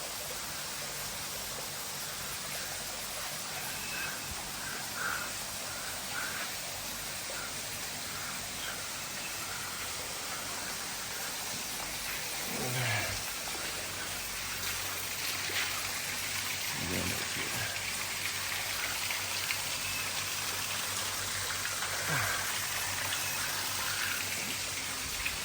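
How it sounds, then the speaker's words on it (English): A small garden waterfall in a koi pond at a riverside hotel splashes and trickles steadily, a constant close wash of falling water lasting throughout, with faint voices beneath. "Yeah, waterfall there. I've got some fish in there."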